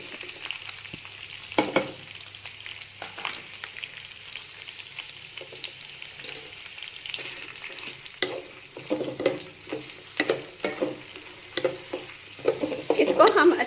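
Two medium onions and garlic fry in a pan, a steady close sizzle under occasional scraping and stirring, getting livelier toward the end, with no voice.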